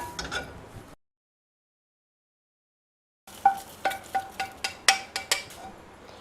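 Foxtail millet crackles as it dry-roasts in a pan for an idli chilli podi. A soft stir is followed by a short silence, then a quick run of sharp, close crisp pops.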